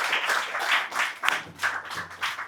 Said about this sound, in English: Please, we will take a big round of applause,